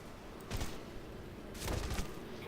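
Gunfire in the video game Red Faction: Guerrilla comes as two short, faint bursts of shots about a second apart over a quiet background hum, with no talking.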